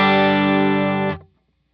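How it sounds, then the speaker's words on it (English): A single heavily distorted chord from a stock Stratocaster electric guitar, played with no pedals straight into a Todd Sharp amp, rings out loud and buzzy, sustaining for about a second before being cut off abruptly. "I'm playing a pretty much of a stock Strat. No, I got no pedals, and just going straight into the amp."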